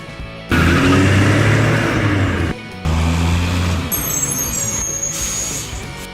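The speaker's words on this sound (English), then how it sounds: "Garbage truck." A garbage truck's heavy engine rumbles loudly nearby in two long stretches split by a short gap, and a thin high whine joins near the end. No one speaks.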